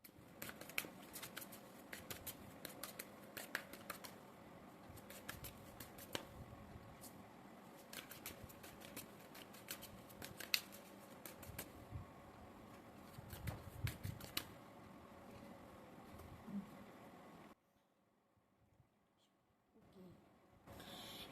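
Tarot cards are handled, shuffled and drawn during a pick-a-card reading, a near continuous soft rustling and flicking with many crisp snaps, close and quiet, then stopping near the end.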